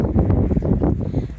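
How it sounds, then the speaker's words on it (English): Strong gusty wind buffets the microphone outdoors beside a garden strawberry patch, a steady low roaring rumble that fills the whole moment with no clear talk over it. "I'm so sorry for the wind. It's crazy windy"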